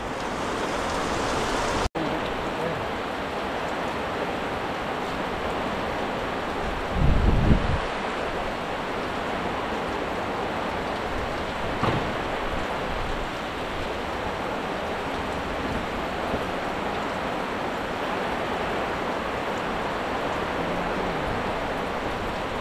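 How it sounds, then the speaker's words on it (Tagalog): Heavy rain, falling for a fifth straight day, pours down steadily in a dense, even hiss that runs throughout, with a brief duller thump partway through. "Pang 5 araw na po yung ulan ngayon."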